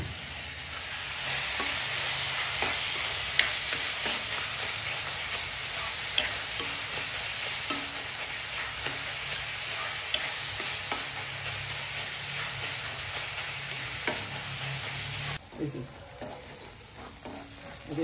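Tomato and onion fry in a pan while a spoon stirs them, giving a steady close sizzle broken by frequent scraping strokes. Near the end the sizzle drops away and only a few clinks are left.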